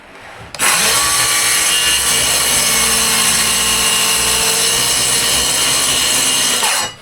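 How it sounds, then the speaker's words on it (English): A table saw in a garage workshop starts abruptly and cuts, producing a loud, steady, harsh whine that holds almost unbroken until it stops at the end. "Well, I cut into the table saw."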